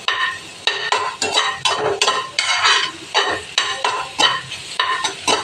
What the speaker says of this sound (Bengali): ডিমটা একটুখানি ভাজা ভাজা হোক